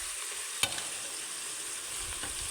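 Food being stirred and mixed in a pan over steady sizzling, with one sharp scrape of the utensil near the start and soft clinks after.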